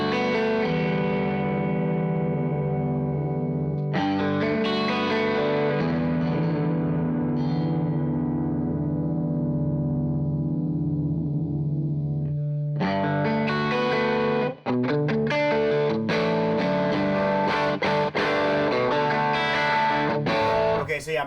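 Electric guitar played through an Eventide H90 effects pedal, sustained chords washed in chorus-like modulation and reverb, followed by a denser, choppier strummed passage with distorted texture.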